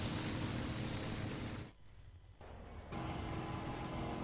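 Train rumbling along in the flight game Wings Remastered, a dense continuous rolling noise that briefly drops away in the middle before returning, no voices.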